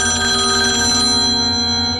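A telephone rings loudly at midnight, a sustained bright electronic tone that carries steadily and alone before cutting off near the end.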